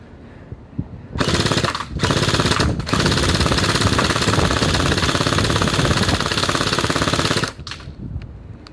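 WELL M401 toy gel blaster firing full-auto at a target, a loud, rapid mechanical rattle that runs steadily for about six seconds with two brief pauses, then stops.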